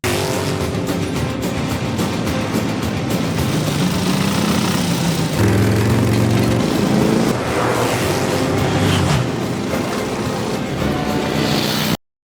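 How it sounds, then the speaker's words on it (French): Early motorcycle race engines from the era of the first Harley-Davidson V-Twin roar loudly and continuously, with harmonic engine tones that rise and fall as machines pass. The engine noise runs unbroken for about twelve seconds with no voices, then cuts off abruptly. "les courses de moto, ça ressemble plutôt à ça"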